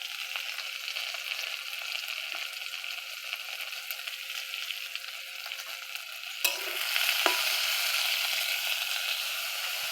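Minced meat frying in a pan with chopped pointed gourd and coriander leaves, a steady close hiss of sizzling throughout that grows louder after a sharp clatter as more goes in.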